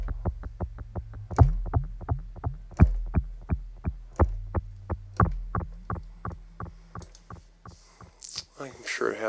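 An Oxid audio plugin on its Mysterious Echo preset turns a spiccato arpeggio into a steady stream of short plucked notes. Each note trails a repeating echo tail, the pattern runs continuously, and a brief burst of noise arrives near the end.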